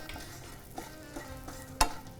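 Garlic and asafoetida fry in hot oil for a chutney, making a soft, brief crackle under a few light stirs and one sharp clack of a spoon or pan.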